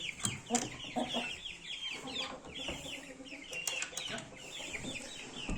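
Chickens and chicks cluck and peep inside a coop on a rainy day, a busy, continuous chorus of close clucks and chirps with occasional louder squawks and no talking.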